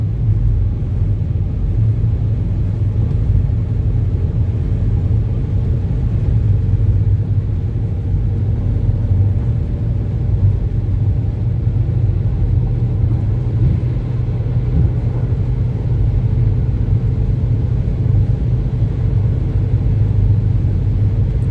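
Steady low engine rumble and road drone from a Citroen C4 Picasso with a 1600cc engine while driving, continuous and even throughout with no voices.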